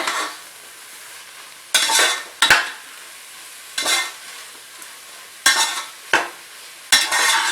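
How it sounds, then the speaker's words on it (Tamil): Mushrooms stirred and sautéed in a pan for a mushroom biryani: scraping spoon strokes come in intermittent bursts over a soft, continuous sizzle, close by and with no voices. "காளான் போட்டு நல்லா கிளறி விடுங்க"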